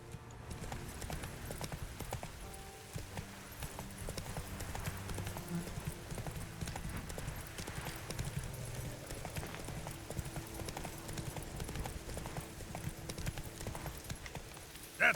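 Roach the horse galloping in The Witcher 3 on Fyke Isle, a steady rapid clip-clop of hooves running throughout over a game music bed, with no talk.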